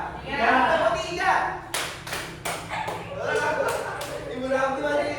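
A group of adults claps in a classroom clap game, several sharp synchronized claps in a short rhythmic pattern amid speaking voices.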